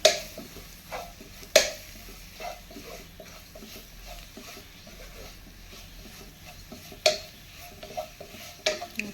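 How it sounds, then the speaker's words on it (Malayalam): Chicken masala being stirred into a curry, with a few sharp spoon knocks against the pot between soft, steady scraping and a faint sizzle, close to the mic and with no talking. "കുറച്ച് ചിക്കൻ മസാല, നന്നായി മിക്സ് ചെയ്ത് കൊടുക്കുക."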